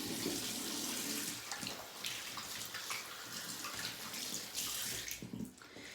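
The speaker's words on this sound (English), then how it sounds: "I'm going to rinse my hands." Tap water runs while hands are rinsed beneath it, a close, steady splashing hiss that breaks up briefly as the hands move through the stream, then stops near the end.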